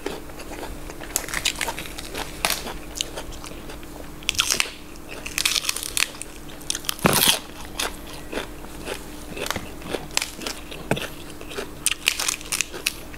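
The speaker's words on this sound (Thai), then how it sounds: "ความกรอบของผักหักแตกโป๊ะหักแตกโป๊ะนะครับ" Crisp, loud crunching bites into raw, crunchy organic vegetables served with Thai raw beef and bitter jaew dip, a steady run of close chewing crackles with one sharp snap in the middle.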